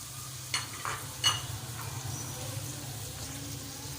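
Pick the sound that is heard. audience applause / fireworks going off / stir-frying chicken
stir-frying chicken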